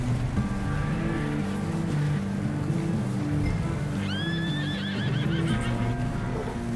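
A horse in the video game Red Dead Redemption 2 whinnies midway over steady clip-clopping hooves, set against a continuous outdoor wash of wind and low ambient tones.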